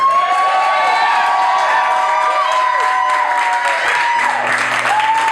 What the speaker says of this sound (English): one more clap for Logan Snedeker.